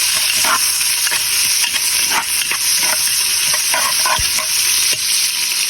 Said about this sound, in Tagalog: Gigisa na natin yan. Maglagay na tayo ng bawang, sibuyas, luya.